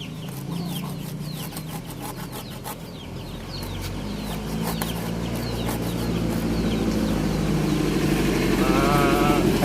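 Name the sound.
chickens clucking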